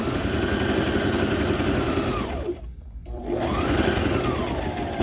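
Domestic sewing machine stitching down the side of a kids' fabric headband, a steady close motor whir that slows and stops briefly in the middle before speeding back up, with no talking.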